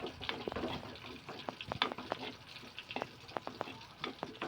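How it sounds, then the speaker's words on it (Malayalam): Spice powders sautéing in a pan for a tuna curry, with soft crackling sizzle and irregular scraping stir strokes, fairly quiet and close, no talking. "ആ പൊടിയുടെ പച്ചമണം മാറുന്ന വരെ വഴറ്റിക്കൊണ്ടേ ഇരിക്കുക"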